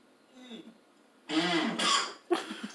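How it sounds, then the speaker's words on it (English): Someone coughs and clears their throat after eating a rotten cheese flavored jelly bean: a soft vocal sound, then two loud, harsh coughing bursts close to the mic and a shorter third. "Sorry, I keep coughing, but it's gross."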